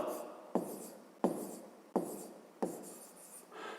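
Chalk tapping and scraping on a board while a short arithmetic calculation is written out: four distinct sharp strikes at roughly even intervals, each trailing into a brief scratchy stroke, close and fairly quiet, with no talk.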